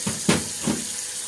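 Hot water runs from a tap for lathering in a steady, nearby splashing rush, with a few brief surges.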